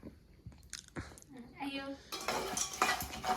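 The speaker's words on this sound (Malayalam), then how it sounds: "പീനട്ട് ഇങ്ങനെ ഇട്ട് ആദ്യമേ വറക്കണം" Peanuts roasting in a pan on a gas stove for homemade peanut butter are stirred with a utensil, producing scattered metallic clinks and scraping that grow busier and louder toward the end, with voices heard alongside.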